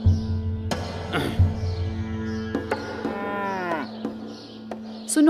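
A cow moos in a farm shed, one long, loud, drawn-out call with rising and falling harmonics, close by and alone with no voices.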